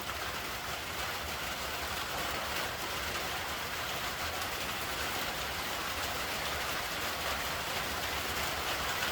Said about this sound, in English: I love the sound of the rain on the metal roof.